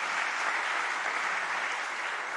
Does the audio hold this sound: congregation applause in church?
yes